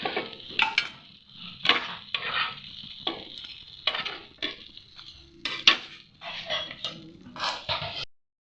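Prawn curry (chingri kosha) sizzles in a pan while a metal spoon scrapes and stirs in irregular bursts, loud and close, before stopping abruptly near the end.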